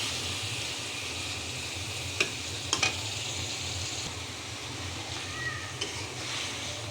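Silver carp fish curry simmering in a pot, steady sizzling bubbling throughout with a few soft scrapes and knocks as a stick stirs it at a moderate, close distance.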